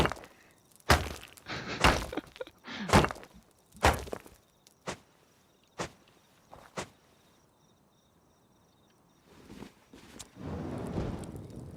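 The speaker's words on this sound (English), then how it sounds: "I can't see what I'm hitting, but I'm hitting it anyway and getting more stuff" In the Rust video game, resources are struck to gather material: a series of loud, close impact thunks in irregular bursts, then a quieter stretch with a faint high ringing tone and soft rustling toward the end.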